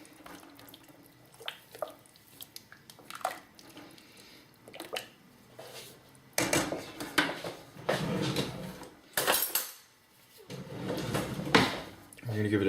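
Celery soup liquid poured back into a pot and stirred, with irregular splashing and liquid sloshing, louder pours in the second half, under occasional talk.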